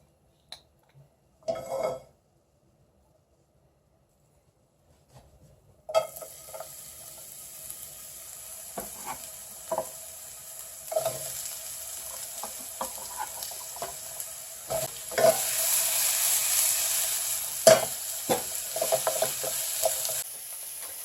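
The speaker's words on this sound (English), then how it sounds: "now we're going to cook the veggies" Meal-kit vegetables cooking in a pan: a short clatter, a few seconds of quiet, then continuous sizzling broken by repeated stirring scrapes and clinks, growing a little louder toward the end.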